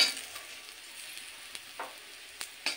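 Taro leaves frying in a wok, a soft, steady sizzle with a few quiet clinks and scrapes of stirring over a low background hiss.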